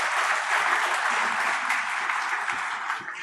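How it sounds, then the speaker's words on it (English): Applause from a summit audience, a continuous, even wash of many hands clapping throughout, fairly close and steady. "a big round of applause would be nice"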